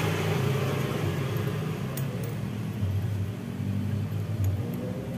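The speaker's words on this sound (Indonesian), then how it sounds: "sumber suaranya ini dari seher ya teman-teman, seher sama rantai kepang." Honda Grand motorcycle engine idling with a rough, continuous rattle from a worn piston and cam chain, a steady close mechanical clatter throughout.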